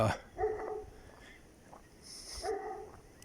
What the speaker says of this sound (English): people have guard dogs. You can hear one off in the distance.